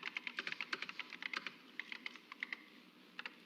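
Someone types on an Apple Macintosh computer keyboard in MacWrite, producing quiet, rapid clicking keystrokes in uneven bursts with short pauses, fairly faint and with no voice over it.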